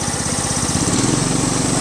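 A John Deere STX30 riding lawn tractor's small engine idles steadily nearby, a continuous loud mechanical hum with a regular low pulsing throb and no voices.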